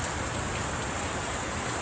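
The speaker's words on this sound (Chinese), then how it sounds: "大雨也没再客气，瀑布水流倾泻而下" Heavy typhoon rain pours on Lanyu island, a dense, steady roar of falling water filling the short stretch evenly from start to finish.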